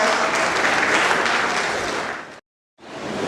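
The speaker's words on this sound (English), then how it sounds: "And a huge round of applause for our dear Shahdan, sir." Loud, dense applause from an audience at a university club event fills the hall, sustained for over two seconds, then cuts off briefly before clapping resumes.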